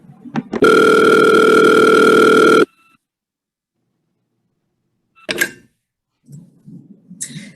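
A long steady electronic tone lasting about two seconds after a couple of clicks, followed by silence and a few short bursts of noise.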